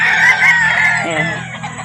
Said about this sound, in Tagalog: marami sila dalang manok